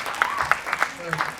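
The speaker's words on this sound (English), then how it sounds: "A huge round of applause for the young ladies here" Brief applause at a festival for a group of young women, a handful of close, uneven claps over a murmur of voices in the room.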